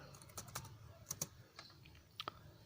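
Keys tap on a computer keyboard while a command is entered in AutoCAD, a handful of quiet, close, irregular clicks in a near-silent room.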